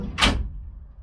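A drawer in a wide, deep under-workbench drawer unit of a slip-in service truck body slides open in one short, close rumbling scrape, then the room goes quiet.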